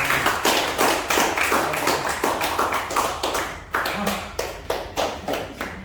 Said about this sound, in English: I think you all earn a clap for yourself tomorrow.